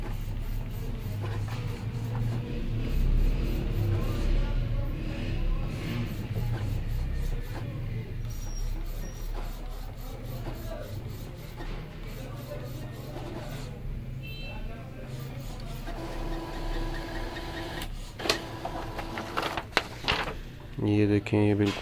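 Epson L1800 inkjet printer running a nozzle check page after head cleaning, with whirring and clicking mechanical motion under steady background noise, ending in louder clunks as the page feeds; a person talks throughout.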